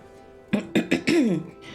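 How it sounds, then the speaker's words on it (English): A woman with a sinus infection coughs in a quick series of four harsh, raspy bursts, the last one drawn out into a throaty rattle, close and fairly loud. "So if you hear me coughing and stuff"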